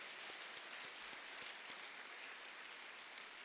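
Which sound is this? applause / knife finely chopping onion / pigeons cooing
applause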